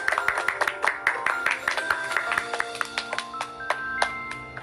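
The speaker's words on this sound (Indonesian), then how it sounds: "Tepuk tangan yuk." Hands clapping in a rapid, sharp rhythm, a small group of close, crisp claps over a light electronic music bed, without talk.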